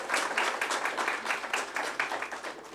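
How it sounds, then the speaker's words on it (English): Audience at a conference on African thought applauding a panel, a moderate indoor round of clapping that stays steady and fairly close throughout, with no talk over it. "Can we give a round of applause for that panel?"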